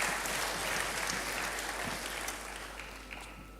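Congregation applauding in a church, a broad wash of clapping from many hands that gradually thins and fades, over a steady low hum.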